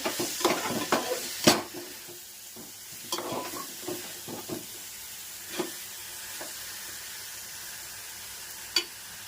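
Drumstick (moringa) masala simmers in a pan while a spoon stirs and scrapes it in scattered strokes over a low, steady sizzle, close and fairly quiet with no voices.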